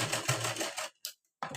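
A sewing machine stitching a blouse runs in a short, close burst of dense mechanical whirring, stops briefly, and restarts with a short stitch run.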